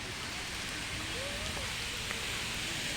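Steady rain pours down in a Konkan village near Sangmeshwar, Ratnagiri, a dense continuous hiss of drops filling the whole stretch at an even, close level with no break.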